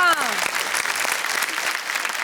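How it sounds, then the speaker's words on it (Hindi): Studio audience applauding on a Hindi women-oriented talk show, a steady dense patter of many hands that starts right after a brief spoken phrase and carries on evenly at close range. "उसके लिए सोनी पल के लिए तालियां।"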